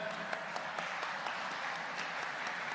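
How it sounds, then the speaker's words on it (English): Student audience at an interaction program in Tamil Nadu clapping for the top NEET ranker, fairly quiet, even applause with scattered sharper claps throughout the short burst. "Big round of applause again for the first ranker in NEET"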